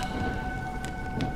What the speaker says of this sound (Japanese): 雨はいつになったら止むんだ？